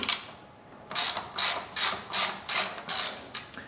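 A ratchet wrench loosens a 12 mm lock nut during engine removal on a Honda CX500 motorcycle, giving six or seven loud, evenly spaced clicking bursts after a quiet start, close up with no talk.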